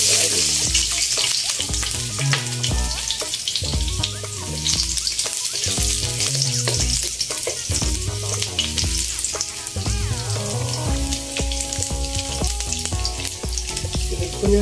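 Garlic frying in oil in a home kitchen, a continuous loud sizzle with music playing throughout.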